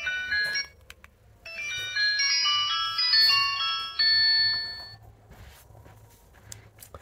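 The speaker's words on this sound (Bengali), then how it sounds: "রিংটোনের যে সাউন্ড, সেটা একটু শুনতে চাচ্ছি যে ফোনটির রিংটোনের যে সাউন্ড কেমন ছিল।" A Sanee S3 Hammer button phone plays its ringtone, a loud, bright electronic melody of quick beeping notes that runs for several seconds, then stops and leaves faint background hum.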